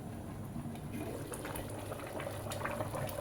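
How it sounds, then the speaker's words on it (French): A pot of cassava leaves (pondu) simmers at a steady boil, with a continuous low bubbling and soft popping that holds for a few seconds, fairly even and alone. "le pondu est en train de cuire"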